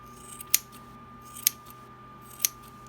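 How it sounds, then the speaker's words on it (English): Three crisp scissor snips spaced about a second apart while trimming a yarn pom-pom made on a bird pom-pom maker template, each cut short and close against a quiet background with a faint steady hum. "And then I'm just going to take my scissors"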